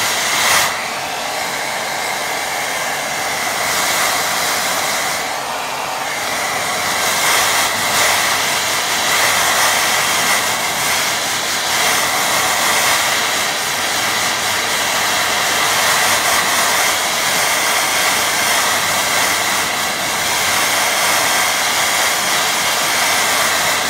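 Hair dryer blowing steadily to dry a watercolour painting, a loud continuous close-up whoosh and hiss that holds for the whole stretch with only slight shifts in airflow.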